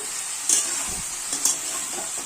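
A large tomato drops into a frying potato and pointed gourd dish, giving a steady near sizzle with two brief louder hisses and soft stirring scrapes, no voices.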